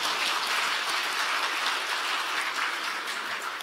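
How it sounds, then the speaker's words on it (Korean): An audience at a 2024 Dongdaemun district New Year's gathering claps, with dense, steady applause filling the room from start to finish and no voices. "박수 한번 쳐주세요"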